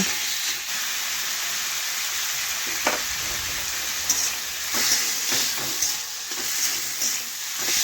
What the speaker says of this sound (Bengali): এক থেকে দু মিনিট আমি ভেজে নেব পেঁপের গায়ে যে একটু জল বেরোচ্ছে সে জলটা আমি শুকিয়ে নেব